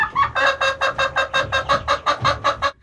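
A hen clucks in a rapid, even series of about a dozen loud, close calls, with a final drawn-out note at the end.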